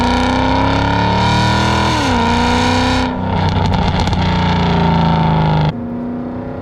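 Mercedes CLK63 Black Series V8 drones loudly and continuously up close, pitch dipping and rising as revs shift, with a rougher, crackling stretch before settling to a steadier hum.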